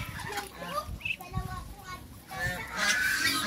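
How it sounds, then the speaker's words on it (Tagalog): Poultry in a pen with chickens and ducks, a mix of nasal honking and clucking calls in bursts, close by, with people talking over them. "May manok."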